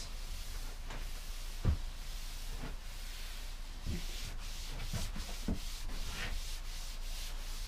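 A cloth buffs a wooden coffee table to remove excess finish, a close, soft continuous rubbing hiss with faint rhythmic strokes and occasional light knocks.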